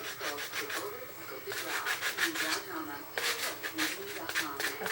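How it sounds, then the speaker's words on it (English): Hand sanding of a wooden primitive nativity craft piece, with steady rasping strokes in quick back-and-forth rhythm, close and fairly quiet, with a voice talking over part of it. "just a little bit more sanding."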